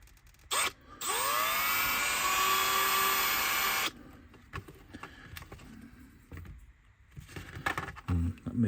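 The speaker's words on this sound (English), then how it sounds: "let's see if we can get these drilled correctly" A small drill whines for about three seconds as it bores into the axle box of a Graham Farish model locomotive, followed by scattered quiet taps and handling noises.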